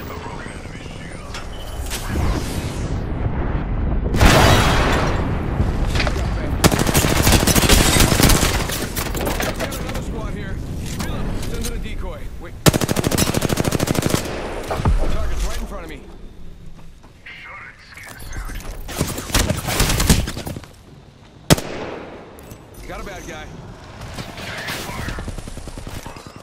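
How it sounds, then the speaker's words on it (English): Heavy bursts of automatic gunfire in Apex Legends come in loud volleys and sharp single shots, separated by quieter stretches, while players talk over the fighting. "Shots fired."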